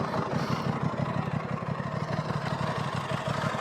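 A 2023 Aprilia RS660 with stock exhaust and a 270-degree crank parallel twin idles nearby, a steady throbbing burble with an uneven pulsing beat, heard alone without talk.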